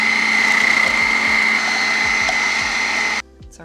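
A kitchen blender on a combined food processor base whirs loud and steady for about three seconds, then cuts off abruptly.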